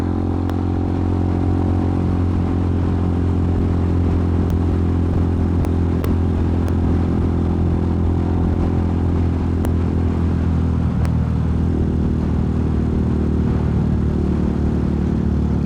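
A Hawk 250 motorcycle engine drones while riding in traffic, a loud, steady low rumble with whirring and clatter, close and continuous, with occasional sharp ticks and a slight dip in pitch near the end.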